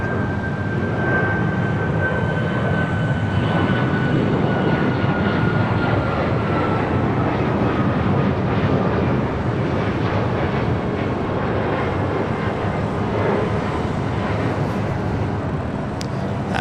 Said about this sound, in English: American 777 next heavy arrival on the south side and 7 right.